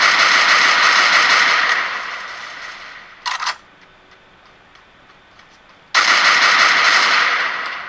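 Automatic gunfire from the Free Fire battle royale game comes as a long, loud, sustained burst. A short pop follows, then a quiet gap, then another heavy burst, with no voices.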